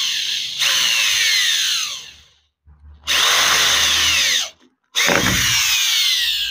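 Power drill boring into a wall to fit a curtain bracket, three loud close bursts of whining, grinding drilling separated by short pauses, the motor pitch sweeping as it spins up and down.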